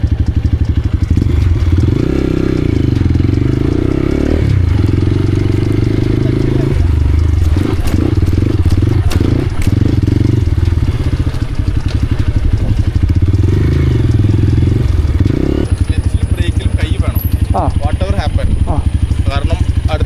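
An off-road motorcycle rumbles across bumps on a training track, its engine rising and falling with the throttle amid clattering thumps, while someone talks over it much of the time.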